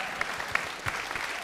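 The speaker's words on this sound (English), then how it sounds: "let's have a round of applause for the parents of these very smart children" Audience applause in a theater at a science talk, a brief burst of steady clapping with a few sharper individual claps standing out.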